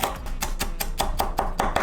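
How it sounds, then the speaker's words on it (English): Cooked bacon being chopped into fine bits with a knife on a cutting board, a fast, even run of about ten close, crisp thuds without any talking. "now it's time to chop up that bacon that you haven't eaten, 3 slices at least."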